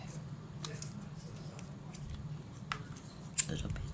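Scissors trimming the edge of a tea bag: a few crisp, faint snips scattered over a low background hum, with one sharper cut near the end.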